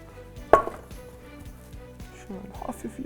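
Vegetables for a zucchini lasagna are chopped on a board. One sharp knife strike is followed by a series of lighter, irregular taps, close and moderately loud, with faint kitchen clatter toward the end.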